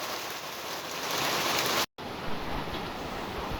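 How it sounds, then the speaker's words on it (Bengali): Heavy rain pours down outside in a dense, steady roar of drops that hardly varies, broken only by a split-second dropout partway through; no voices. "বাইরে প্রচণ্ড বৃষ্টি হচ্ছে"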